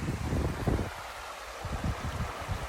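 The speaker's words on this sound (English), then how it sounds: "Natural water source." A natural stream running through a backyard property, a soft continuous wash of flowing water at a moderate distance, with faint wind buffeting the microphone in uneven low gusts.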